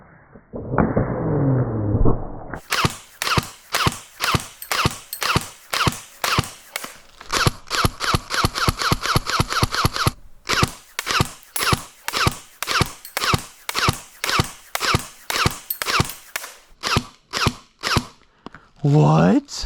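An airsoft gun fires from two barrels in rapid bursts of sharp, snapping shots, with fast runs and short pauses between them. A brief voice is heard at the start.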